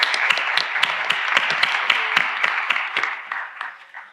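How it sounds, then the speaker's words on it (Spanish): A seminar audience gives a short round of applause, dense hand clapping for about four seconds that fades toward the end. "Que es que no os habéis dado un aplauso."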